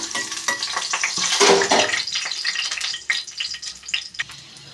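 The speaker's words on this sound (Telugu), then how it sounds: "ముందుగా అయితే వెల్లుల్లిపాయ అనేది వేసుకుందామండి అది కొంచెం ఫ్రై అయ్యాక" Garlic sizzles in hot tempering oil, a close, crackling frying hiss with bursts of spattering and light stirring, no voices.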